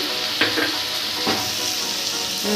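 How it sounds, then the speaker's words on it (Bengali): Tomato paste sautéing in a pan for pabda fish curry, a steady loud sizzle with a couple of stirring scrapes of the spatula, close up and continuous without any talking. "এটাকে একটু কষিয়ে নেব"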